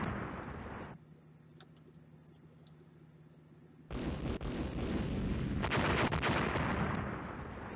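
Heavy naval guns of 11-inch and 12-inch calibre boom in a fleet battle in the naval strategy game Rule the Waves, a loud blast at the start, a quieter lull, then a dense sustained roar of repeated firing.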